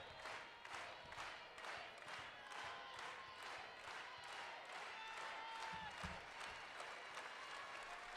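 A volleyball crowd at a Kentucky vs. Cal Poly NCAA regional semifinal claps in a steady rhythmic beat, the pulses sounding distant and faint while a commentator talks over them.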